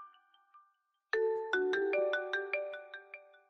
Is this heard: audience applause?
no